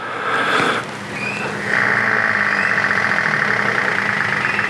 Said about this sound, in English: hopefully you can hear that little electric whirring sort of sound